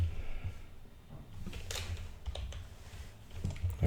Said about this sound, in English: I was typing in a different language.